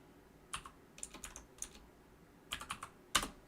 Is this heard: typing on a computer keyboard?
yes